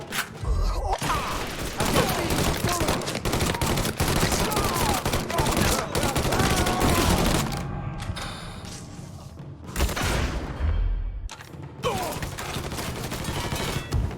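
Heavy gunfire in the Mafia III Definitive Edition prologue, dense loud fusillades of rapid shots with brief pauses and a few thumps, close and continuous over game sound.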